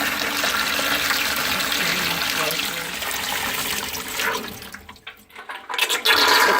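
Water runs steadily from a leaking faucet, a continuous splashing rush that briefly thins and dips before surging back loud near the end.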